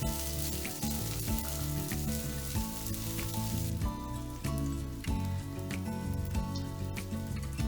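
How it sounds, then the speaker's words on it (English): Roughly chopped half onion sizzles loudly in vegetable oil in a wok, a dense continuous frying crackle with shifting pops and stir noises and no talking. "add another half tablespoon of vegetable oil to a wok. Then I added half an onion, chopped up roughly."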